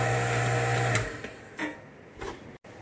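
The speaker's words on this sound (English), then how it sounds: "Turn it on and start grinding." An electric meat grinder starts up to grind venison for cheesy brats, a loud steady motor whine near the mic that shifts pitch and dips with a few bumps before cutting out.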